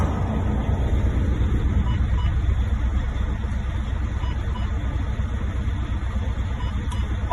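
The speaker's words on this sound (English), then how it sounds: "I'll start the truck." A truck engine starts and settles into a loud, steady idle close by, a continuous low rumble that holds throughout.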